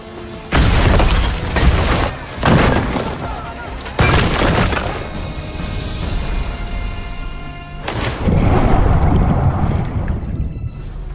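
Loud booming blasts and crashing debris burst out in several heavy bursts, with mechanical clatter and rumbling between them.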